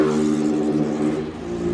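A brief burst of engine noise rising in pitch as a 330cc motorbike revs, loud and close, with a slight dip before climbing again.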